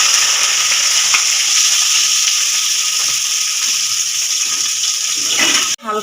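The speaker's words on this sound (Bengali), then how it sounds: "প্রথমেই আমি তেল গরম করে রেখেছি, বেগুনটা ভেজে নেব" Eggplant pieces frying in hot oil for a Bengali shukto, a loud continuous sizzle with occasional stirring clinks and a brief clatter near the end.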